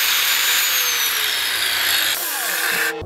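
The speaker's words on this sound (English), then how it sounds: "I'm gonna go ahead and grind all this stuff off of there so it doesn't look like a mushroom" Metal being ground off a motorcycle leaf spring suspension bracket, a loud, harsh, continuous power-tool whine up close that drops off and winds down near the end.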